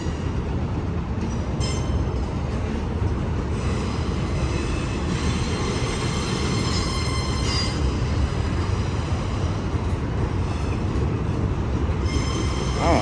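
A CSX work train with a caboose rolls past close by on the Schuylkill River Viaduct, loud and continuous, with rumbling wheels, rhythmic clatter and metallic squeals throughout.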